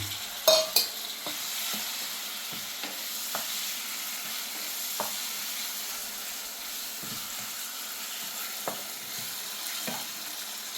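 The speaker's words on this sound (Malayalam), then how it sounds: "നമ്മൾ നേരത്തെ കഴുകി വെച്ച ചിക്കൻ അതിലേക്ക് ചേർത്ത് കൊടുക്കാം." Washed chicken pieces for chicken kurma stirred in a hot pan, with a soft continuous sizzle and hiss and scattered spoon scrapes and clicks, close by, no talking.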